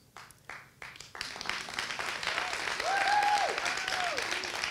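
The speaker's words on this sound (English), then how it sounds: "That wasn't even my applause line." Applause from a hall audience during a speech, starting as a few sparse claps and swelling into steady sustained clapping, with a faint tonal squeal riding over it near the end.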